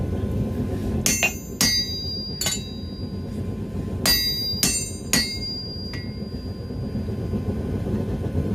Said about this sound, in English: Bigger hammer, I think.